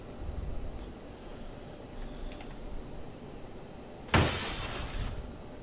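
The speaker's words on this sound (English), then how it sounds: "Car just literally smashed into us." A car smashes into an airliner in Microsoft Flight Simulator 2020, heard as one loud, sudden crash that breaks out of quiet background hum and then stays as a harsh, noisy wash for a second or so.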